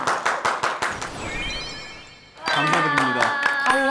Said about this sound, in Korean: 와 박수!